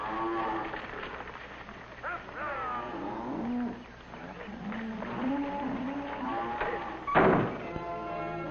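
Cattle moo repeatedly in long, drawn-out bellows over a pasture, several overlapping calls at moderate distance, with a dull thump near the end and steady background noise.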